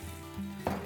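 Hot oil sizzles steadily in a pan up close as spices are tempered for aamti, with a brief clink near the end.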